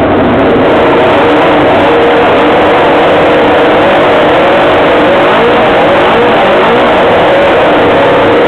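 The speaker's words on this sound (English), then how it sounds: "Have you ever heard a bike run open air?" A 2009 Suzuki GSX-R 600 motorcycle engine in a university racing car runs with an open exhaust, a loud, close, continuous roar that dominates throughout without a break.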